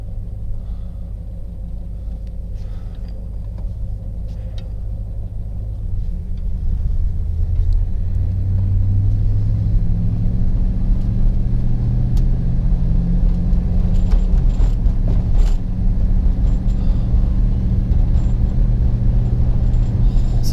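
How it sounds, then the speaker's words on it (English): A 1958 Plymouth with a push-button transmission rumbles low and steady as it reverses, then the engine note rises and holds as the car drives off, heard from inside the cabin. "I'll put it in reverse there. Let the brake off and back on out."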